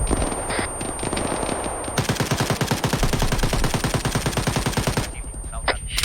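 Squad gunfire erupts in sustained rapid machine-gun bursts aimed into a town, loud and close, sparse shots at first, then a dense unbroken stream before tapering off.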